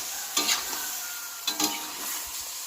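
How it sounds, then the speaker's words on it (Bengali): Chicken skin, gizzard and liver fry in oil in a pan with a steady close sizzle, broken twice by brief scraping stirs of a spatula. "তার আগে দু তিন মিনিট শুধু আমি এগুলো আলাদা করে ভেজে নেব একটু"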